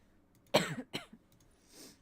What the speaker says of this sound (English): I'm over this cough.